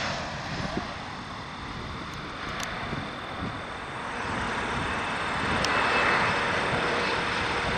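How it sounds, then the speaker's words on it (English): An Air Canada A319 airliner passes near Toronto Pearson airport, its steady jet roar growing gradually louder toward the end against wind noise on the microphone. "Air Canada A319."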